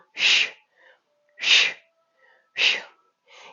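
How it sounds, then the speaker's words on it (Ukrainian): Three sharp, forceful breath exhales during an abdominal exercise, evenly spaced about a second apart, close and breathy with short silences between and a softer fourth breath starting at the end. "Видих."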